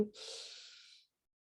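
A single deep breath drawn in during a breathing exercise, a soft close airy hiss lasting about a second, then silence.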